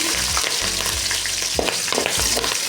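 Green chillies sauté in hot oil for a lemon rice and brinjal poriyal meal, giving a loud, steady sizzle with repeated scraping stirs of a spoon against the pan and no voices.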